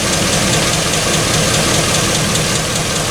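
A 1984 K20 pickup with an LS engine swap idles steadily and loudly up close, a continuous even rumble with a faint ticking lifter knock running through it and no talking.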